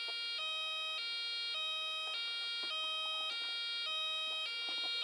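A homemade hee-haw police siren circuit sounds a loud, steady two-tone electronic wail that alternates high and low pitches in an even rhythm, alone and continuous.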